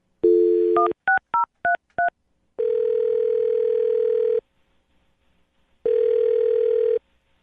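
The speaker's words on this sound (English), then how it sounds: "I'm going to dial her phone number right now" A telephone number is dialed as a quick run of short touch-tone beeps, followed by two long, steady ringing tones separated by silence, loud and clear with no speech.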